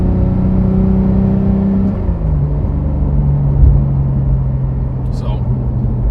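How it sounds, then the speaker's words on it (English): Porsche GT3 exhaust with its valves closed, downshifting, heard as a loud, close, rumbling drone that drops in pitch partway through, with a voice talking over it. "this is downshifting with no valves"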